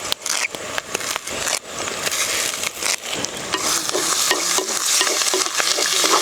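Country chicken curry stirs and fries in a pan, a steady close sizzle with repeated spoon scrapes and stirring clatter running throughout, fairly loud and without talk.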